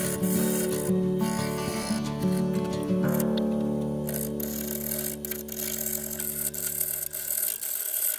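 A woodturning lathe spins a tree trunk bowl blank while push and pull cuts hog away the wood, giving a steady, loud mechanical drone with scraping texture throughout and a shift in tone partway through.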